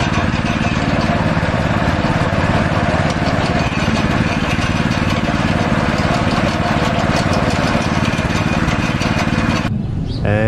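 Sugarcane juice press running outdoors just outside Ananda Temple in Bagan, a loud steady motorized grinding and whirring that holds constant throughout, then cuts out near the end.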